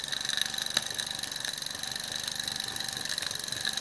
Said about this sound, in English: the Luton Bowman PW201, dating somewhere from the immediate post-war period to the early 50s, in Steam for the first time